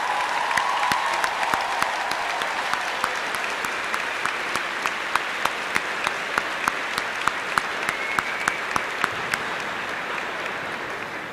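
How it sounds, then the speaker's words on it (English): A large crowd at a high school graduation applauds steadily throughout, a dense wash of clapping with a few sharper individual claps standing out near the microphone. "let's give our graduates a round of applause"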